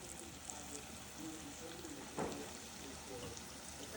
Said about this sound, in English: another batch of deep frying